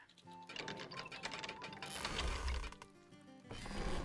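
A dwarf-made ballista is loaded with a flaming bolt in a fantasy video game, a mechanical ratcheting and clanking of gears and wood, close and busy, building in intensity over a few seconds.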